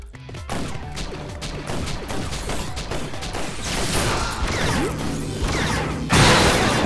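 Blasts and crashing bursts from a fight in the video game Awesomenauts fill the stretch densely, ending with a sharp, louder explosion near the end.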